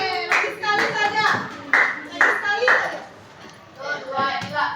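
Rhythmic bursts of hand clapping in a classroom counting game on multiples, several sharp clap groups spaced across the clip, with a teacher and children chanting numbers over them.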